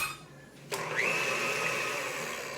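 An electric mixer starts up after a brief click and whirs steadily, its motor pitch sliding up then holding, as it mixes malassada batter of milk and eggs for Azorean donuts.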